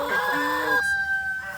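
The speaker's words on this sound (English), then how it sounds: "This chicken is hilarious." A chicken clucks and gives a short crowing call, moderately close, over steady outdoor background noise at a vegan festival gathering.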